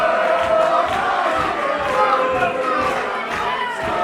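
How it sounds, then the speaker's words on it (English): A professional wrestling arena crowd rhythmically chanting a wrestler's name, a steady loud mass of voices with a repeating pulse throughout, dense and enveloping with no breaks. "And Del Bruno not even fazed by these Deluca chants."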